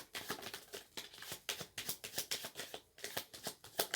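Tarot cards being shuffled by hand, a quick run of soft riffling flicks and papery slaps repeating close up, with no voices over them.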